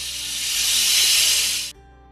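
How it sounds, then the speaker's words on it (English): Steam hisses loudly out of an Instant Pot's pressure-release valve in a steady, broad rush for under two seconds, then cuts off abruptly, leaving faint room noise. "flip the little switch and all the steam will"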